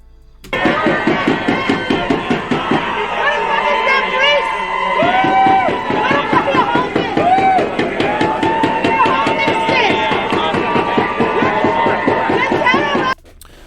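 Protesters bang drums in a fast, steady pounding rhythm while a crowd cheers and shouts, loud and close, with a brief lull near the start before the drumming and voices surge back.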